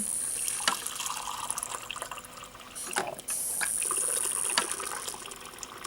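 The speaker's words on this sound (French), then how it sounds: "On va tout d'abord mettre de l'eau dans le refroidisseur." Water being poured into a cooling vessel for making Japanese houjicha tea, a steady close trickle and splash with a few light clinks of ceramic, no talking.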